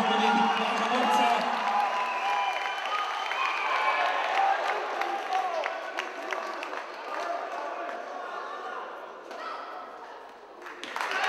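Crowd at a fight-night bout applauding and cheering as the fighter is greeted, a dense continuous roar of clapping and voices that stays loud throughout and tapers slightly near the end.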